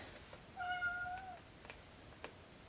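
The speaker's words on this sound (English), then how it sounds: "And there is my kitty crying." A pet cat gives a single clear, drawn-out meow lasting under a second, close by in a quiet room, followed by faint soft taps.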